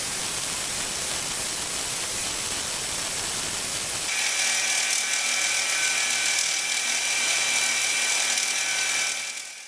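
A homemade surface grinder runs with a steady, broad whirring hiss, then shifts to a brighter, harsher grinding whine as the wheel cuts a piece of mild steel, continuing loudly before stopping abruptly.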